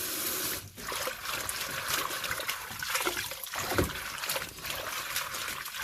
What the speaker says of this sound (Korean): 열무를 깨끗하게 3번 정도 이렇게 흔들어 가면서 열무를 3번 정도 씻어 주세요